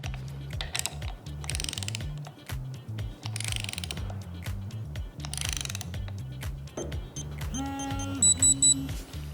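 A STRwrench smart torque wrench tightens a bolt to a 140 Newton-meter target, giving steady rhythmic ratcheting clicks from the mechanism, with brief electronic beeps near the end as the target is reached.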